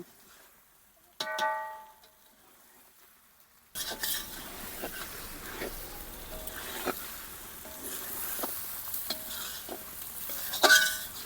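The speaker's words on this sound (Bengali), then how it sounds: "এখন ভালো করে কষিয়ে নিব" Chicken curry stir-fried in a pan, a short beep and a stretch of quiet, then sudden close sizzling with repeated spoon scrapes and clinks on the pan.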